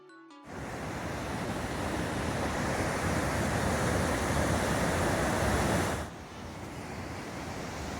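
The lower falls of Wallace Falls, a cataract waterfall in winter, roar as a steady broadband wash of rushing water, loud and close, easing slightly near the end.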